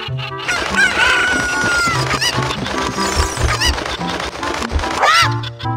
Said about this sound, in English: Pick up the chicken and throw them around!